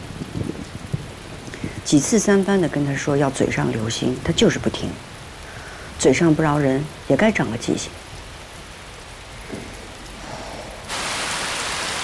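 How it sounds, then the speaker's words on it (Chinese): Heavy rain pours steadily in an outdoor palace courtyard, a constant hiss heard under dialogue between two people and swelling louder near the end. "这雨可是越下越大了"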